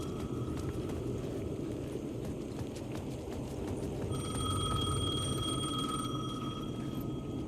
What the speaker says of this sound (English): I hear the phone again, but where is it? The payphone at the edge of the plaza was ringing again.